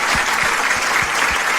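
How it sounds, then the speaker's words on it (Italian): A crowd applauds steadily, a dense wash of clapping that holds at an even, fairly loud level throughout. "desidero un applauso"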